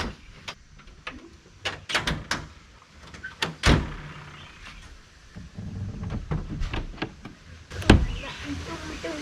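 Car doors thudding shut at a campsite, several solid slams spaced apart among footsteps, rustling and faint voices nearby, outdoors and close.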